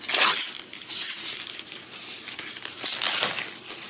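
Packaging around a cheap Amazon Les Paul-style guitar is peeled open close up, with continuous loud crinkling and tearing bursts of plastic and paper.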